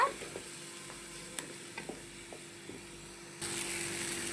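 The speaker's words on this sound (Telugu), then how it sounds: "ఈ పేస్ట్ని కూడా చక్కగా ఫ్రై చేసేసుకోవాలి" Spice paste for raw banana masala pulusu fries in a pan with a soft, steady sizzle, punctuated by light clinks of a spoon stirring, before the hiss swells louder near the end.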